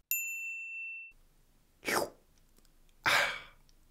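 A bright notification bell dings once near the start, ringing out briefly before fading, followed by two short rustling bursts.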